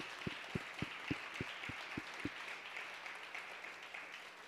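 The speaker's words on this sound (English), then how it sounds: "can we just clap for those that have went before us, that have laid the foundation?" Audience applause at a gathering, quiet and steady throughout, with a few louder dull thumps standing out early on.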